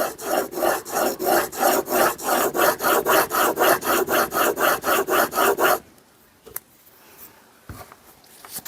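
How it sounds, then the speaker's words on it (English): Chisel edge rubbed back and forth on a 300 grit diamond stone, a steady rasping scrape repeated about twenty times in even strokes, loud and close, then stopping into near silence with a few faint handling knocks. "This 300 grit diamond stone really is removing quite a bit of material very quickly."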